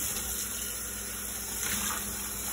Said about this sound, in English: when I'm washing my dishes, I want to make sure that I rinse everything off